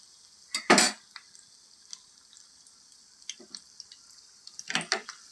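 Okra bajji fritters go into hot oil with two splashy plops and a few smaller taps and clinks, over a faint steady sizzle in a quiet kitchen.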